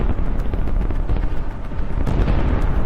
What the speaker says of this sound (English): Another launcher fires, but almost immediately it is hit and detonates.